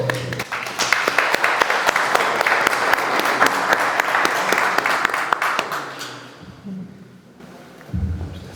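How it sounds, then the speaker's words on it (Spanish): Loud, full applause from a large crowd fills most of the stretch, then fades out, followed by a brief low rumble. "me gustaría que le dieran un fuerte aplauso"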